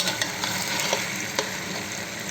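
Leeks and rice toasting in a pan produce a dense, even sizzle, with a few light stirring taps, close and without talk.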